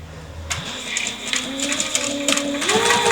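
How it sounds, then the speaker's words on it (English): A sewing machine stitches a quarter-inch seam on a boxy pencil pouch, starting with a quick rise into a steady mechanical whir that runs fast and even, close up, with a faint voice underneath. "I'm sewing this at roughly a 1/4 inch seam allowance"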